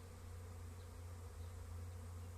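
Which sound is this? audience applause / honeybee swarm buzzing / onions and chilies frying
honeybee swarm buzzing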